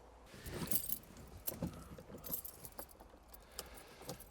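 Maserati car keys jangle and clink in several short bursts, close by and fairly quiet, with light rattling between the louder shakes.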